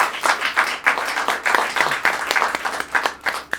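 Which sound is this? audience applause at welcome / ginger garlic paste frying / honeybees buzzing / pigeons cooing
audience applause at welcome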